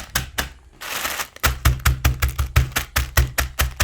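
Crisp crackling bursts of potato chips being crushed to powder inside a bag, a few loose crunches, then a fast, regular series of rhythmic crunching squeezes.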